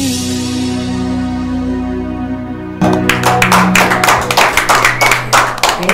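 Applause for a karaoke singer at the Mas FM Aruba Karaoke Fest 2023 breaks out suddenly after a sustained musical backing, a dense burst of crowd clapping that stays steady and fairly loud to the end.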